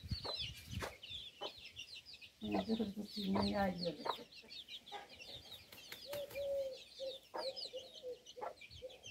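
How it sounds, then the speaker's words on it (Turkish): Chickens clucking around a rural Turkish village home, a busy run of close, repeated clucks and squawks with someone talking over them throughout. "Şu tavuğu dışarı kovalıyor."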